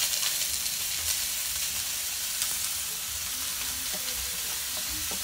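Bitter gourd (ampalaya), salted beforehand, frying in a pan with onion, a steady close sizzle and crackle filling the whole stretch with a few soft stirring scrapes, no voices.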